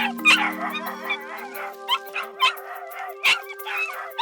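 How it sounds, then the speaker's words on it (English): Inside a barn, four puppies and their mother dog howl, yip and whimper in overlapping high cries, close and fairly loud, with short sharp yelps repeating over a continuous whining chorus. "Inside the barn, they find 4 puppies and their mother."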